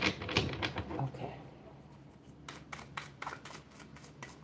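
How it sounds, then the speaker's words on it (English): Tarot cards being shuffled by hand give quick, crisp papery riffles and taps in irregular bursts, fairly close and moderately quiet over a soft background. "I don't like to make so much noise sometimes with the shuffle."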